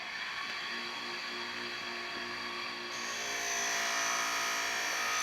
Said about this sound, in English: Now that is the buffing wheel there.